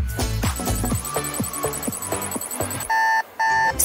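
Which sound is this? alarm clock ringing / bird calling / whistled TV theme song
alarm clock ringing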